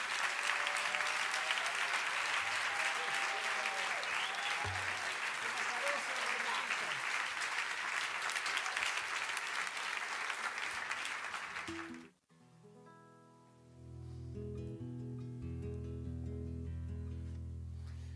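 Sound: audience applause for Alexis Díaz Pimienta

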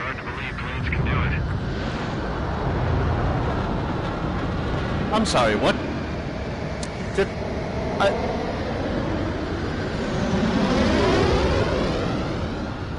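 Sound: jets performing aerobatic maneuvers in the video game Top Gun

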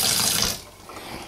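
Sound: tap water running while rinsing liver

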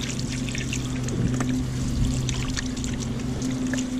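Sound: rinsing shark steaks with water

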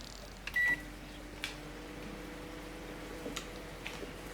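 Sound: liver cooking in video game Schoolboy Runaway

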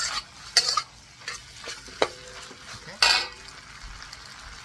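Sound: stirring and frying shrimp for pad thai in a pan

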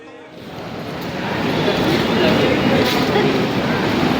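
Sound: train arriving at Santragachi station

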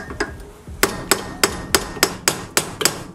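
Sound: hammering a socket onto a wheel stud, Nissan 370z brake upgrade

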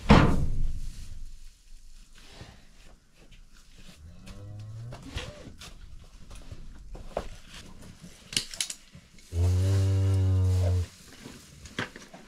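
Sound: cow mooing in a barn during winter calving

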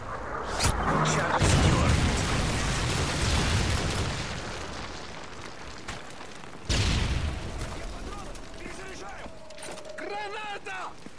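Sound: Predator missile explosion in video game Call of Duty MW3

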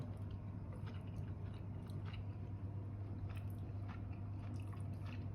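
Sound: biting and chewing stir-fried kale with crispy pork

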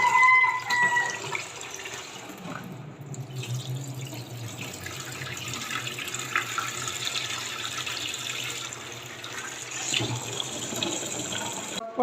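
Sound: washing lentils under running tap water

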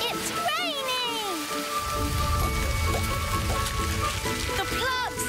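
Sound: rain falling

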